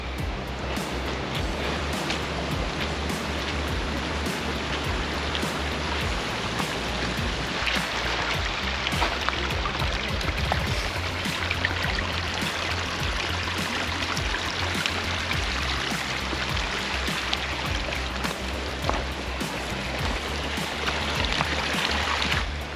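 Continuous rushing water, rainwater flowing down a hill path like a stream over stones near Grwyne Fawr reservoir in Wales, fills the whole stretch with a steady broad wash of sound and no speech.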